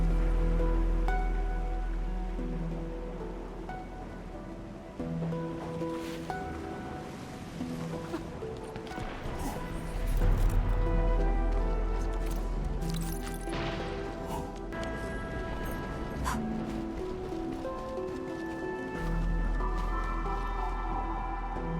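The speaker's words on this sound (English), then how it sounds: "It's raining harder. I can't hear anything except for the rain." Heavy rain in the video game Arknights: Endfield makes a steady wash of downpour beneath tonal game music, continuous and fairly loud throughout.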